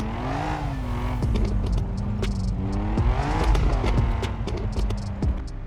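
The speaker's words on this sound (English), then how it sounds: "Japan Car Traffic Racer feels like driving a car in real life" A car engine in the Japan Car Traffic Racer mobile game revs up and down steadily, with brief tire squeals and whooshes of passing traffic, loud and close throughout.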